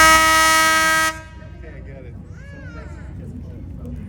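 Tour boat horn sounding one loud, sustained blast as the boat sets out from the Chicago River toward Lake Michigan, cutting off sharply after about a second, followed by quieter engine and water rumble with faint distant voices.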